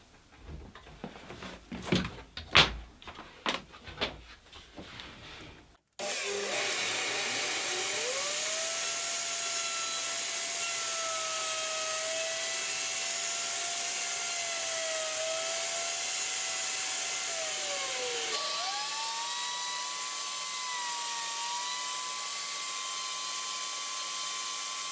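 A trim router runs freehand along a workpiece edge, a steady loud whine held for about twenty seconds with a slight pitch shift partway through, after a few brief knocks at the start.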